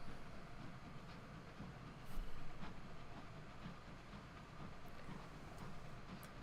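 A train runs steadily in a space-themed video game, with a continuous rumbling roll, a soft hiss and light rhythmic clatter, and a slight swell partway through.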